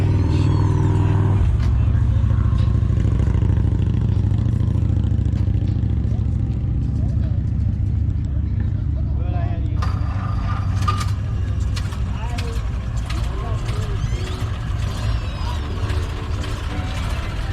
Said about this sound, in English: they sure sound different starting up, them older cars, don't they?